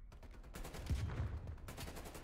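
Gunfire in the Call of Duty video game, a quiet burst of rapid automatic shots with low thumping impacts, heard faintly against steady game background noise.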